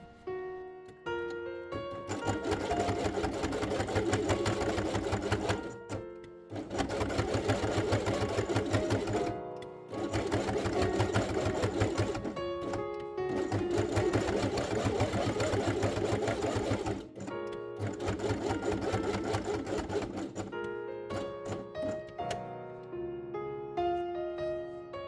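Sewing machine stitching white felt onto a base page of a handmade fabric quiet book, steady close whirring runs in several long bursts separated by brief pauses, no voices.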